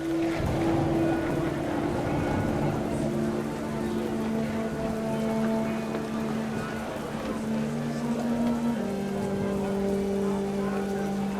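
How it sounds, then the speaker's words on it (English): Heavy rain pours down in the video game What Remains of Edith Finch, a steady dense hiss over a tent, with sustained low musical tones running underneath throughout. "Rain came down in buckets then"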